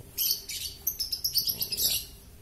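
An oriental magpie-robin (kacer) sings a quick series of bright, high chirps and tweets in irregular bursts, close and clear, with no voices.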